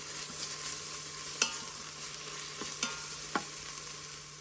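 Onions sautéing in an Instant Pot on the sauté setting make a faint, steady sizzle with a few soft scraping clicks of stirring, heard alone at low level with no talk.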